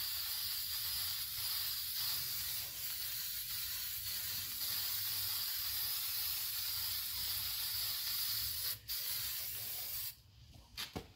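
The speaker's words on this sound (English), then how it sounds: "So let's spray this and we cover the rotor as we said." Continuous aerosol spray paint hissing loudly onto car brake calipers for about ten seconds, with a brief pause and a few short final bursts at the end.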